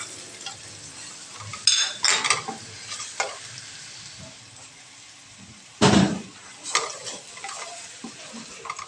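Okra with salt and chilies fries in a pan, a low steady sizzle broken by several scraping stirs and one loud clatter of a utensil against the pan.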